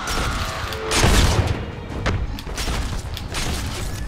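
Quickdraw Calamity pistol fire in Fortnite Save the World, a loud burst of rapid booming shots clustered near the start, followed by quieter scattered thuds and game noise.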